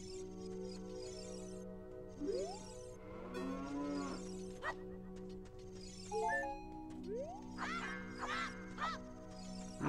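Cows in the video game Zelda Ocarina of Time give repeated stylized moos with rising pitch, over a looping melodic background tune, with bright chime-like flourishes between calls.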